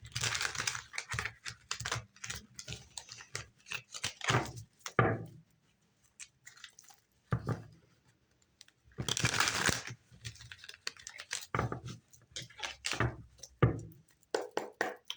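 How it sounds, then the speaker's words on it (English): Crisp riffling and slapping of tarot cards being shuffled in several bursts, with brief pauses between, close up and fairly quiet. "I'm going to shuffle these guys first for you"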